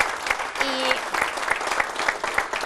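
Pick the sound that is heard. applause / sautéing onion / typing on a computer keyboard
applause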